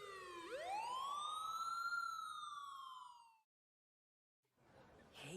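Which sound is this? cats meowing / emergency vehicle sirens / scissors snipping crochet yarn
emergency vehicle sirens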